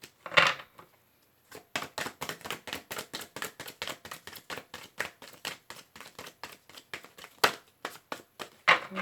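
Rapid, crisp riffling of tarot cards being shuffled, a steady run of papery snaps close by, after a brief pause at the start.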